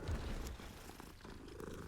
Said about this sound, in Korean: 딱 봐도 고양이 자꾸 쓰다듬게 되네.